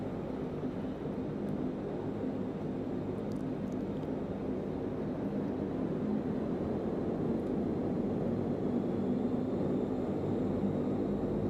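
Steady, loud roar of twin turboprop engines on a DHC-8 Q400 as power advances for takeoff in a flight simulator game, a continuous broadband drone that holds level throughout with no voices.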